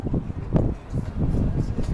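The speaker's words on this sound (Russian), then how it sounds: "Еще и дикий ветер сейчас поднялся." A strong wind during a dust storm in Alanya, Turkey, gusting and buffeting the microphone with a deep, uneven rumble that rises and falls, with no voices.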